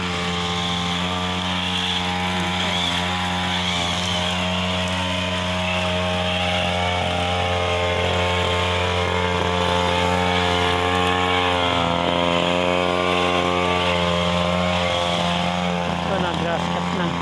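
Grass cutter running near a residential unit, a loud continuous motor drone with a strong steady tonal whine, close by throughout, with a voice talking faintly beneath it.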